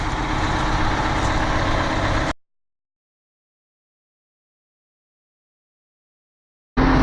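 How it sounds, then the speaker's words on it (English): A 1985 Peterbilt dump truck's engine runs with a steady, close, low diesel rumble for about two seconds, then cuts out into silence before the rumble briefly returns at the very end. "Got the dump truck on."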